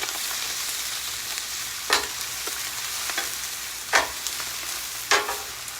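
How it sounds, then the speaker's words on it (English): Sausage and cabbage frying on a Blackstone griddle: a steady loud sizzle throughout, broken by a few sharp scraping strokes of a spatula as the food is mixed, no talking. "So we're going to go ahead and mix up some of this stuff and throw that sausage in there too."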